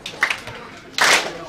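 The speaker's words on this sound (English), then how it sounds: "what I need you guys to do is to clap with me" An audience claps together at a live show in Manchester, in two short bursts about a second apart.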